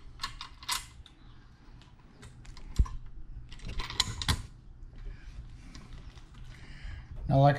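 A screw with four washers being fitted into a Corvette C5 seat mount for Corbeau A4 seats, heard as quiet intermittent clicks, taps and ratcheting metal contacts, with one sharp knock midway and a louder clunk at the end.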